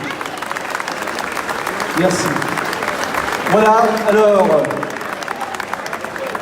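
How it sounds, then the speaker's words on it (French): Applause from an audience at the opening ceremony and handing over of the keys to the bandas, steady clapping with a crowd murmur while someone speaks briefly over it. "vous pouvez l'applaudir."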